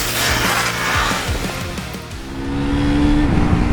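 A 2024 KTM Duke 250 motorcycle rides hard with its quick shifter, the engine revving loudly and stepping quickly through gears with short drops in pitch, mixed with wind rush.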